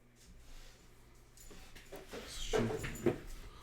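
A female puppy whimpers softly up close with thin whines and yips that grow louder toward the end, over a quiet room background.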